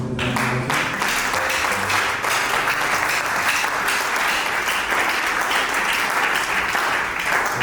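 A church congregation at a Sunday service breaks into applause and cheering, a dense and continuous roar of clapping mixed with shouts. It holds steady and full throughout.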